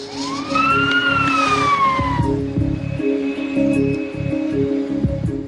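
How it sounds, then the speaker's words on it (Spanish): An ambulance siren wails loudly, rising and falling over traffic rumble, then settles into a steadier distant tone. "Una ambulancia y personal sanitario se desplazan"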